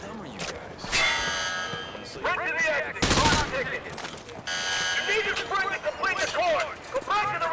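Bursts of gunfire at a video game shooting range, with sharp volleys and rapid automatic fire near the start, middle and end, set against busy game sound and electronic tones.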